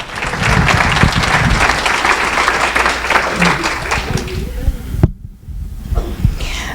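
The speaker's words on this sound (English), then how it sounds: "I'm going to give him a big round of applause" Audience applause at an alpaca fleece show awards ceremony, a dense steady clapping from a crowd that fills about five seconds before cutting off, leaving faint room murmur.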